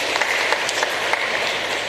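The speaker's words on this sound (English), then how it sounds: "Please, Paul, give him a big clap" A large crowd at a funeral service applauds, a steady dense patter of many hands clapping with a few louder claps standing out, fairly loud and continuous throughout.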